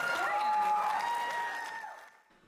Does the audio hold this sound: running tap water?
no